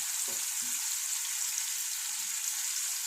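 Food fries and crisps in a hot pan with a steady, close hiss and sizzle, and a couple of soft stirring knocks near the start.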